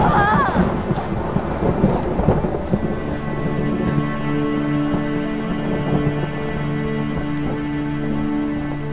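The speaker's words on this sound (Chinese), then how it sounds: "马上就要下雨了" Thunder rumbling as rain approaches in a Chinese palace drama scene, a low roll strongest in the first few seconds, then fading beneath sustained tonal music.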